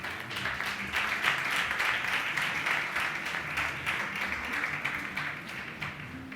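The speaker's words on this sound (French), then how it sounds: "Acclamons la parole de Dieu" A church congregation applauds steadily throughout, a dense, even wash of clapping from many hands in a reverberant room, with no breaks.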